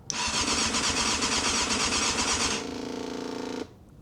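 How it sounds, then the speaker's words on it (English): Yamaha Thundercat motorcycle, unused for 13 years, with its fuel pump priming during a start attempt; a steady close whirring buzz runs for about three and a half seconds, shifting pitch midway, then stops abruptly. "so that's the pump's priming again."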